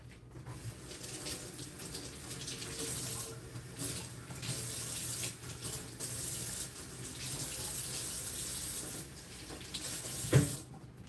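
Steady running tap water splashing over fish being washed at a kitchen sink, a constant close hiss of flowing water with shifting splashes and a brief clunk near the end.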